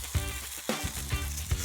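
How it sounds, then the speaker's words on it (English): Garlic cloves, skin on, sizzle in a hot pan with a steady frying hiss and a few soft crackles and pops, fairly close and moderately quiet, with no talk. "So I'm going to take some cloves of garlic, skin on, and just add to the pan"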